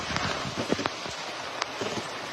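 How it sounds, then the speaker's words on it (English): Rain falling on the Oregon coast during a thunderstorm, a close, steady hiss with scattered sharp drop impacts and a few louder splats, no voices. "God damn, it's raining."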